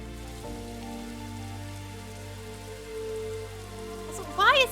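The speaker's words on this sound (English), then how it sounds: "why is it raining in the tomb?" Steady rain falls inside a tomb in the video game Scarlet Nexus, a constant soft patter layered over low music, with a brighter chiming sound rising near the end.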